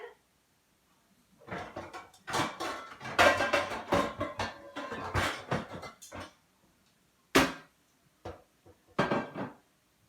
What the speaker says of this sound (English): I'm going to get my pan.